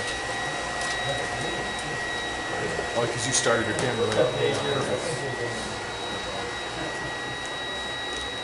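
A Deebot D35 robotic vacuum and a cheaper $200 vacuum run side by side indoors, giving a steady, close mechanical whir throughout while a person talks over it.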